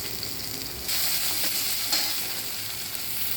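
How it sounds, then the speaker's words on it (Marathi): Capsicum, onion and tomato sizzle in a hot pan, a steady broad hiss that jumps louder as the vegetables go in, with faint stirring scrapes and no talking. "शिमला मिरची, कांदा, टमाटे टाकून लगेच झाकते."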